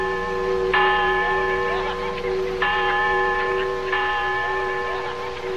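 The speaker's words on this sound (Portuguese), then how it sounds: "A badalada foi linda." Church bells toll three times at even intervals, each ringing strike decaying into a sustained metallic hum, in a 1972 Western film.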